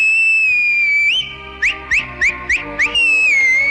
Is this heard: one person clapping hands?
no